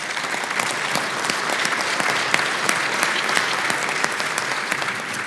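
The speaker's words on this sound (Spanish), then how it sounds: "por quienes pido un sentido aplauso por el esfuerzo de venir acá" A seated audience breaks into steady, sustained applause in a hall, the dense patter of many hands clapping evenly at close range for several seconds without voices over it.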